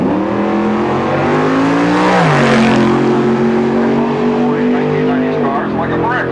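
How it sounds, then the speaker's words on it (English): Super stock drag race car at the 1998 Super Stock Reunion at Norwalk Raceway Park, running at over 130 mph: a loud, close, sustained engine roar whose pitch dips briefly, climbs again, then falls away near the end. "Seconds at over 130 miles per hour and a great top-end charge from probably some of the most unaerodynamic race cars ever designed."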